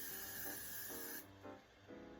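A spray bottle hisses in a long burst onto a wig, followed by a few shorter pumps, close by and fairly soft.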